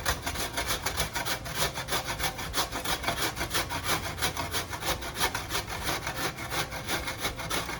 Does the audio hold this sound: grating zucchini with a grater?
yes